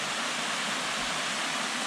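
A series of small cascades at Hawthorne Falls on Mount Garfield in the New Hampshire mountains pours in a constant broadband rush, steady and fairly close with no talk.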